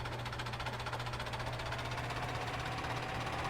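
A tractor engine in Farming Simulator 17 runs at a steady low drone with a faint rhythmic knocking throb, constant and fairly quiet throughout, with no talking.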